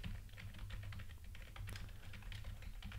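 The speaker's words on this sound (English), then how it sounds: "I'm going to type in my email" Quiet clicking of keys on a computer keyboard as an email address is typed, a steady run of light taps close by with no talking.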